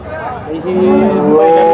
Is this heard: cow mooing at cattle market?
yes